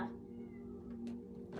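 Cat gives a long, drawn-out indoor meow that carries on steadily over a low background hum and ends with a short higher call.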